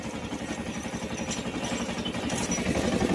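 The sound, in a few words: mini tractor with rotavator running in cotton field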